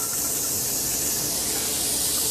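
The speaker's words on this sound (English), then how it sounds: "we're going to add our onions into this" Onions sauteing in a pan give off a loud, continuous, even hiss that stays steady without breaks.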